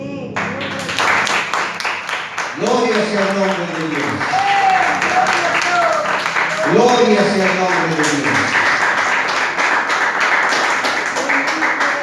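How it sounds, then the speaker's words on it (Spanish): A church congregation applauds during a Christian worship service, clapping building into a dense, sustained burst while voices chant and sing over it in waves, the hands continuing steadily beneath the repeated sung phrases. "¿Cuánto le dan un aplauso al Señor?"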